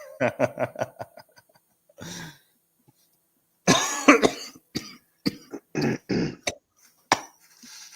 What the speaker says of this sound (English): That's an old cough that's been sitting there waiting.